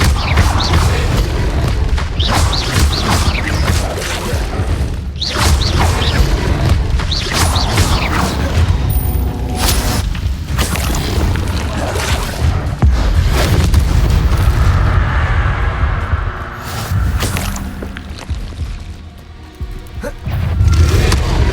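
Fiery Incendio spell blasts go off during combat in Hogwarts Legacy, with Merlin trial challenges underway. Loud booming bursts and crackling impacts repeat over a dense, rumbling game mix, with a brief quieter dip near the end.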